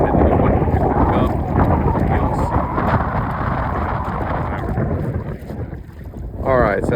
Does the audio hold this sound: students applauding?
no